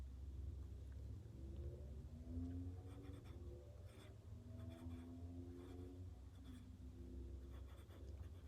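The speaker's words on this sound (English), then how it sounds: "Write down one or two important key words from this page." A pen scratches out a few key words on a small post-it note in a quiet classroom reading lesson, faint short scribbling strokes over a low steady room rumble.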